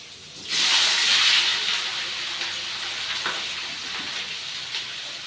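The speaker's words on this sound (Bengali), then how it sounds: "এবার সিদ্ধ করে রাখা ইঁচড় আর আলু আমি দিয়ে দেবো।" Boiled jackfruit and potato dropped into hot oil with five-spice seeds in a frying pan, a loud sudden hiss that bursts up and then settles into a steady, close sizzle with no talking.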